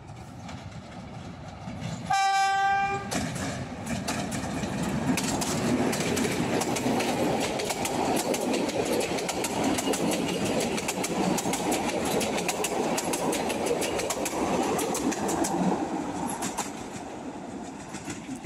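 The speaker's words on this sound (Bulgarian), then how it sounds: "ето го бърз влак 1661" Express train 1661 hauled by locomotive 77-109 sounds a sharp horn blast, then rolls past with a sustained loud rumble and rattling wheel clatter lasting the rest of the way, with no talk.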